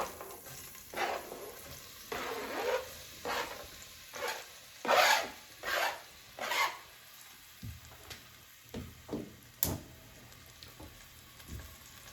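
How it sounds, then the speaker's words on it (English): Chopped onion and garlic tipped into a hot pan for a vegan zucchini soup, a series of short sizzling and scraping bursts at a steady rhythm, close and moderately loud with no talk. "I'm going to go ahead and put my onion and garlic in here."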